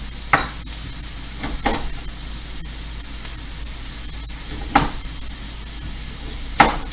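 Onions fry in a pan with a steady, soft sizzling hiss, broken by a few brief stirring scrapes or crackles at intervals, moderately close and with no talking.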